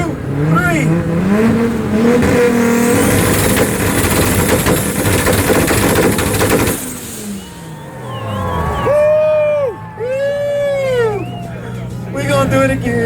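A Toyota Supra at a two-step contest at a car meet, its engine revving hard and loud with harsh crackling for several seconds, then dropping to an idle with sharp pops and whooping rev blips as a crowd murmurs nearby.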